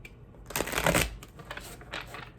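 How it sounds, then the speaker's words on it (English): Tarot cards are shuffled close by in a quiet room, a soft papery riffle and flutter that swells briefly and then trails off into lighter rustles. "We're going to do one shuffle for your person."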